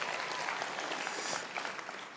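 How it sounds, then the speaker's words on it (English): Mild applause from a church audience, a steady patter of clapping lasting about two seconds at moderate volume with no voices over it. "Can we get a mild applause for Easter coming?"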